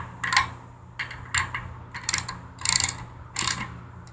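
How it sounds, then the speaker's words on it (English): Ratcheting tool tightening a bolt on a BMX bike, heard as five short bursts of metallic clicking at a steady pace, close and fairly clear over a low hum. "You want to tighten this bolt up."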